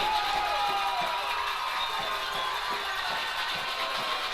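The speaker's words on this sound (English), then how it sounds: "Oh, you're going to hear this crowd go." A high school baseball crowd cheers as Sinton and Calallen fans rise to their feet, the batter down to a last strike: a steady roar of voices and shouts with whistle-like tones riding over it, carrying on without a break.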